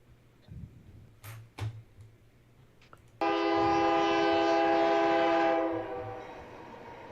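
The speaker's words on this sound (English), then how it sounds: "we have our UP train coming into view here at Belle Plaine" An empty Union Pacific coal train led by an SD70 locomotive approaches at Belle Plaine, with faint rumble before its horn sounds one long, loud, steady blast that then fades away.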